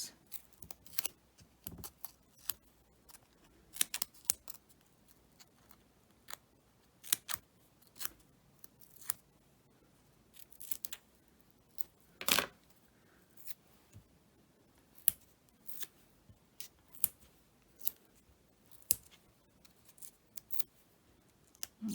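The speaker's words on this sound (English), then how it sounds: "scissors." Scissors snip Scotch foam adhesive tape in quiet, crisp, irregular cuts, some single and some in quick clusters, close and alone.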